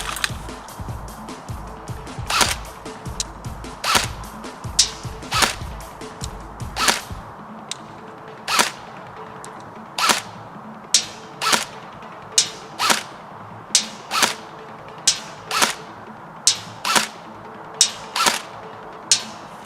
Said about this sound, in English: I missed a few more shots, but the majority of the shots landing smack on that target, and not my camera